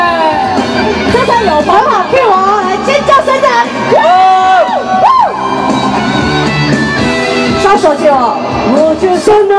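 A crowd at an outdoor temple festival concert cheers and screams loudly, overlapping a female singer's amplified vocals and band music.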